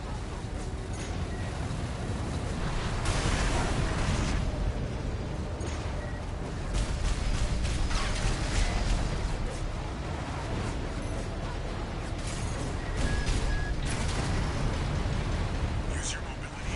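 Explosions in the video game Armored Core VI erupt as heavy booming bursts over a continuous rumbling wash of combat noise, swelling in several waves across the passage.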